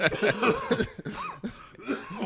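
A podcast host with a cold coughs several times in short, rough bursts close to the microphone, interspersed with brief voiced sounds.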